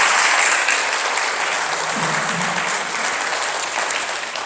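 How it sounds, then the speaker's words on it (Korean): Audience applause at a church ventriloquism show, steady dense clapping from a crowd filling the whole stretch and tapering slightly at the end. "박수 한번 주시고요."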